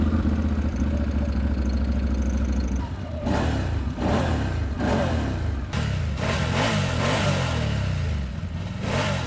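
A BRP Outlander 1000cc ATV engine runs loud and close with a steady, throaty drone, then revs in repeated surges that rise and fall for several seconds.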